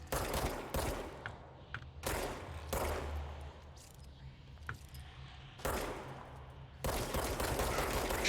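Bursts of gunfire in the video game Control as enemies made of goop are shot, several loud automatic volleys separated by short pauses, with no talking.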